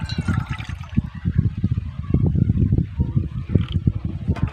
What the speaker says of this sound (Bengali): ব্যাটারটা কিন্তু অনেকটাই ঘন হয়েছে তার জন্য আরও কিছুটা জল দিয়ে দেবো